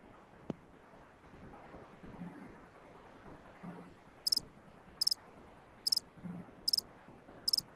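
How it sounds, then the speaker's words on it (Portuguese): A cricket chirps in short regular bursts, five quick trills spaced about a second apart, over a faint low background with occasional soft thumps. "Olha o grilo, olha o grilo."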